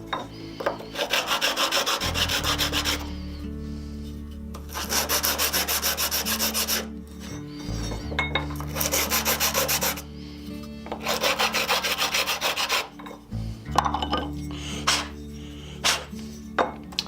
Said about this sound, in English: A little bit of polishing on the pin and some chamfers on the end of the block